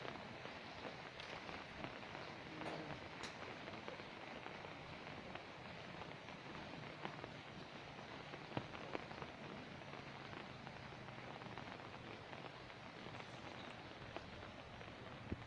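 Steady rain falling on a house and its front garden with flowers, a soft continuous hiss of drops at low volume with occasional louder drips, no talking.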